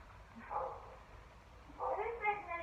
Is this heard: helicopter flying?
no